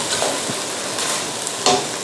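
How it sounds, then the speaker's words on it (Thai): Peanut filling for a traditional Thai snack being stir-fried dry in a pan, with close scraping stirs and soft sizzling, a few sharper spatula scrapes standing out, and no talk. "ผัดให้แห้งนิดนึงนะคะ"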